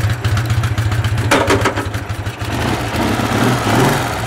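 An extremely rare Edelweiss motorcycle with 175 cc per side and small exhaust pipes idles loudly up close. Its throbbing beat pulses evenly, rises briefly in a quick rev, then settles back into a steady idle.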